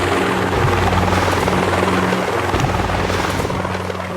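Loud, steady helicopter rotor thrum with a low pulsing drone, continuous throughout and close, from heavy choppers attacking in the mobile game Boom Beach Warships.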